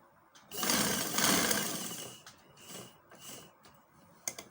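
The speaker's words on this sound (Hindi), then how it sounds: "इसके बाद मैं सीधा इसे सिलाई लगा लेती हूँ।" A sewing machine stitches the tariz panel of a kurta, running in bursts with a longer stretch of rapid stitching followed by shorter runs and a few clicks, close and fairly quiet.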